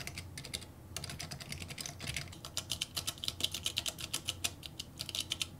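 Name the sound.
typing on Splitography keyboard with Matias quiet switches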